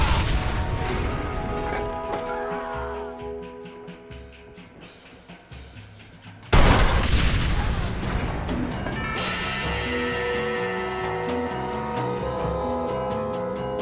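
Gunfire in the Western video game Red Dead Redemption, a dense barrage of crashing shots and booms over a music score, quieter at first, then a loud burst halfway through that keeps blasting steadily to the end.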